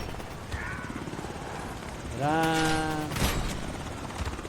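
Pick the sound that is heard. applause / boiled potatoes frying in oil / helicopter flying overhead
helicopter flying overhead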